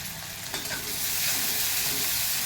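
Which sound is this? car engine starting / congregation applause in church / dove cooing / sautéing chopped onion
sautéing chopped onion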